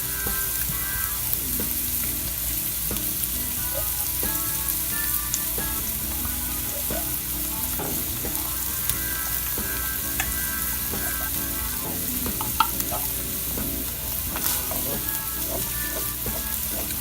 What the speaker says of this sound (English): I'm going to make some room for the tomato paste, and we're going to toast it.